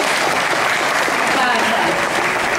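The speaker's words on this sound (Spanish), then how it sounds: "Un aplauso para él." Applause for Rolando Núñez, director, on the second night of Afropalabra, a dense, steady wash of clapping from a close audience that holds its level throughout without pause.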